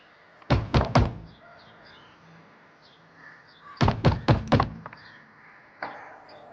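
Knocking on a door at home, two bursts of three or four loud, quick raps about three seconds apart, then a single softer knock, with no talking.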